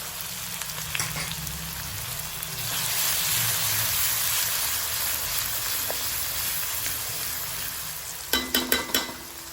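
Onion, curry leaves and a garlic, chili and ginger paste sizzle steadily in a hot pan, a dense frying hiss that swells as the ingredients go in, with a few sharp clinks of a spoon near the end.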